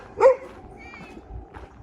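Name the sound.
dog barking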